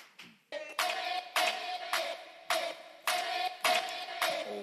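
Studio audience applause welcoming a NewJeans stage on a Korean talk show, heard as a run of loud, close bursts of clapping that swell and fade in repeated waves with no talking.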